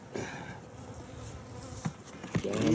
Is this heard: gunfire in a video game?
no